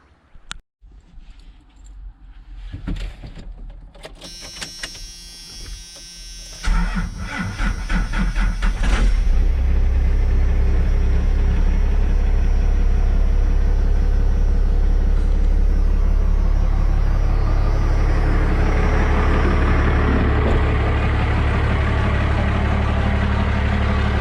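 A 1995 Dodge 2500 Cummins diesel truck with a faulty NV4500 five-speed transmission, with clunks at first, then the engine starting up and running loud and steady, a deep continuous rumble with gear noise from the transmission.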